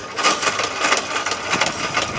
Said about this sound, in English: Over here we got a good old engine.